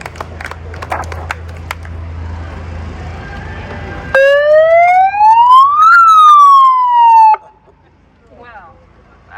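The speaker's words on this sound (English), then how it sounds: "I didn't mean to do that cop siren" A police siren wails loud and close at an outdoor rent stabilization rally, sweeping upward and then falling away over about three seconds. Before it starts, crowd and street noise fill the scene.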